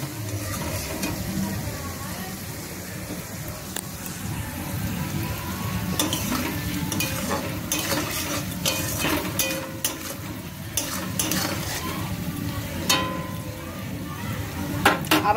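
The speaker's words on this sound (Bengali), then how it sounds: "তো আমি পেঁয়াজ আর রসুন তেলে দিয়েছিলাম মাংস বানানোর জন্য" Onion and garlic frying in oil for a meat dish, a continuous soft sizzle with intermittent scraping and clinks of stirring, while a person talks over it.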